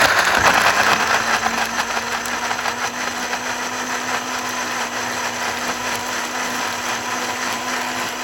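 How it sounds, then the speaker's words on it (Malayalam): Mixer grinder blending two small chopped tomatoes into puree with no water added, a steady loud motor whine with a dense blade roar that holds throughout, slightly heavier at the start. "ഞാൻ 2 ചെറിയ തക്കാളി കട്ട് ചെയ്ത് മിക്സിയുടെ ജാറിലേക്ക് ഇട്ട് കൊടുക്കുന്നുണ്ട്. ഇനി ഇത് വെള്ളം ചേർക്കാതെ നമുക്കൊന്ന് അടിച്ചെടുക്കാം."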